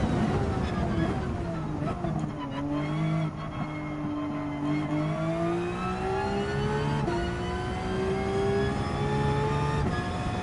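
Sports car accelerating in Gran Turismo 7 during a timed race, the engine note climbing steadily and loudly through the revs with brief dips at gear changes, continuous and close.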